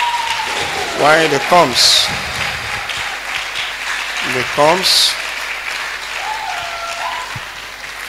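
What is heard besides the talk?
congregation applauding in church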